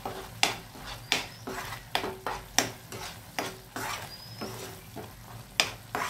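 Paneer tikka cooking in a pan with tikka masala, giving a soft steady sizzle broken by repeated sharp scrapes and clinks of a spoon stirring against the pan, close and moderately quiet.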